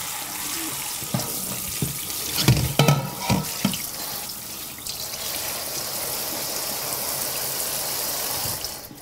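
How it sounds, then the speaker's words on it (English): Cold tap water runs steadily over a slab of brined pork belly being rinsed for bacon in a kitchen sink, with a hissing broadband stream and a few louder splashes and knocks early on as the meat is handled. "give it a good rinse under a tap. Cold water, just to wash all of that brine and sugar and salt off the outside of the pork"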